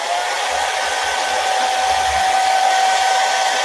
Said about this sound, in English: So let's dry that before I pull the tape off.